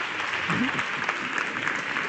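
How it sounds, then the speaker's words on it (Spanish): Continuing applause from a conference audience after a technology talk, a steady dense clatter of many hands with a brief voice rising faintly under it. "Recibe más aplauso."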